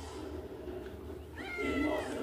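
A cat meows once near the end, a clear tonal call rising out of a low steady background hum, fairly quiet and alone.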